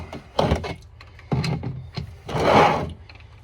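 A wrench works at the oil drain bolt under a 2005-08 Dodge Magnum, with several close ratcheting clicks and metallic clunks in short bursts and then a longer grinding turn.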